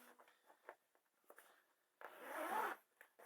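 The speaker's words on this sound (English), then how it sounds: "just zip it back up" A repurposed rifle case is zipped shut: a few soft taps and handling rubs first, then one long, close, bright zipper pull that drags for nearly a second before a brief final rustle.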